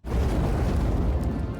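A shoulder cannon fires in the One Piece live-action series, a sudden loud, booming blast that rumbles on densely for over a second without pause, with no talking over it.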